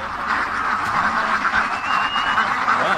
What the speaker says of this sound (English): we are gonna see ducks run.